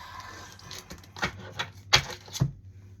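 Tarot cards handled in a pre-shuffle, giving a few crisp, close taps and flicks spread across a quiet stretch with no talking.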